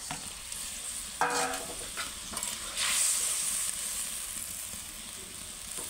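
Pieces of rohu fish fry in a pan with a steady close hiss, a sharper burst of sizzle as they settle, then an even crackle that carries on alone.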